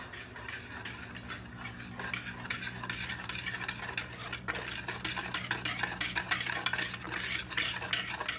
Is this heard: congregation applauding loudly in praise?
no